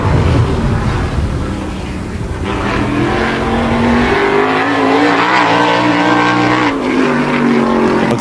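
A wall modified race car running a qualifying lap at Wall Stadium roars loudly out of the final turn, engine pitch climbing as it accelerates down the straight, close and dominant with no talk over it.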